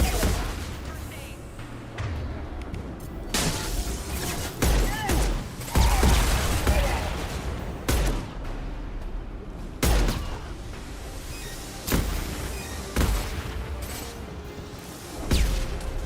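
Gunfire in the Mass Effect 2 video game, repeated sharp shots and booming blasts in irregular bursts over a dense battle din, with voices heard briefly between them.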